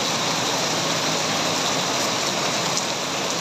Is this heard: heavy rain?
yes